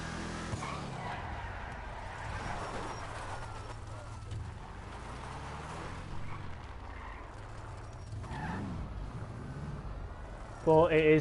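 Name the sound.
motorcycle engine and tire skid in the GTA video game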